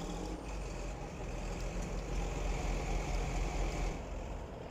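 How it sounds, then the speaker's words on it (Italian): A John Deere tractor in a video game mod idles with a steady, throaty exhaust rumble, continuous and fairly loud, heard alone without talk. "Lo scarico lo sentiamo subito."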